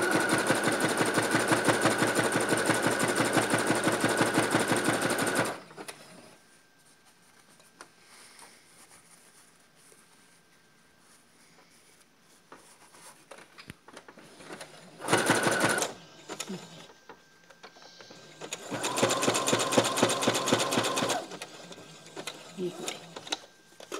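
A sewing machine stitches a strap on a girl's frock, running fast in a steady clattering burst, then stopping, then two shorter runs after a quieter pause with faint handling sounds.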